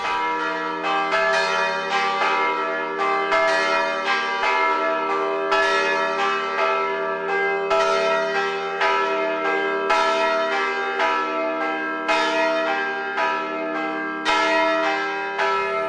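Several church bells peal together in a continuous ringing, overlapping strikes with long resonant tones, loud and without any voices.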